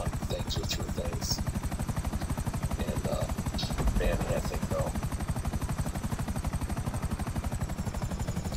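A helicopter in a video game flies through a course with a steady, fast rotor chop that stays loud and constant throughout, with brief higher game effects layered over it.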